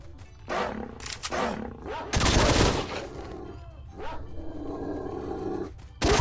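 Dogs in the video game S.T.A.L.K.E.R. give loud, close snarls, growls and yelps in bursts, mixed with sharp impact and gunfire-like cracks.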